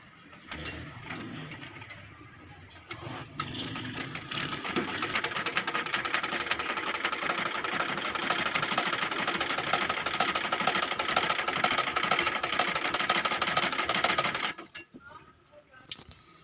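A household sewing machine stitches jersey-type fabric in a steady, rapid mechanical whir that runs loudly for about ten seconds, with slower starting stitches before it and a stop and click at the end.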